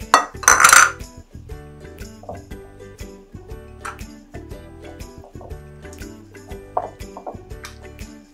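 Cutlery clinks and scrapes against a dish while mustard is mixed, with a loud scraping burst at the start followed by a steady run of light, close taps and chinks.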